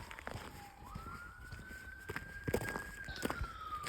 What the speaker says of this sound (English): ambulance or something's coming.